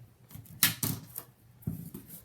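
Tape is pulled from a roll and cut at an angle, heard as a couple of sharp ripping pulls followed by softer snips and rustles, close by and with no voice.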